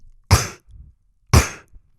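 Two sharp, percussive inhaled throat clicks land about a second apart, each followed by a faint breathy tail. A beatboxer is performing the inward K snare, a vocal imitation of a snare drum.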